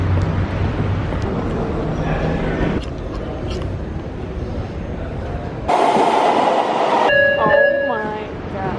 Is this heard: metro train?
yes